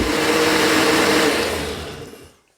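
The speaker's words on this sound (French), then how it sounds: "Faire mixer un petit coup." Kitchen blender pureeing pumpkin soup after 200 g of cream has been added, giving a loud, dense whirring roar that holds steady, then winds down and fades to silence near the end.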